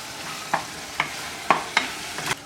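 A pot of spicy Ghanaian food is stirred in a close, quiet kitchen. About five distinct scraping knocks of a spoon against the pot land at a regular pace over a faint sizzle, with no talk.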